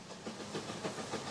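Narrow-gauge steam train Rasender Roland of the Rügensche Kleinbahn on Rügen, a small steam locomotive, giving a steady low chuffing and hissing with soft rhythmic beats, moderately distant and unbroken, with no voices.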